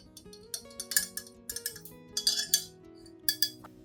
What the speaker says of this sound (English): Then mix the solution thoroughly until all the ingredients are fully combined.